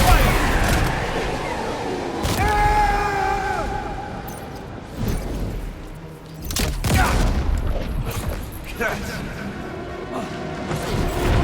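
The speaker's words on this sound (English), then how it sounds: "Taking fire!" Gunfire from a Death Stranding 2 firefight, with dense bursts of shots and crashing impacts running throughout and voices talking over the battle.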